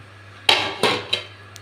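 A few sharp metallic clanks as a lid is set on a pot of drumstick and dried fish head curry left to boil, three knocks close together over a low steady hum.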